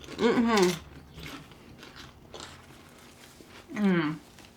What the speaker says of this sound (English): Let's just make sure the microphone gets all the crunch here.